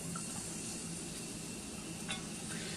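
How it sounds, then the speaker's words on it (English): Onion sizzling in warm olive oil in a pan, a soft steady frying hiss with a faint stir or clink partway through, no talk. "I have the olive oil in the pan warming up, and then I'm going to be adding the onion."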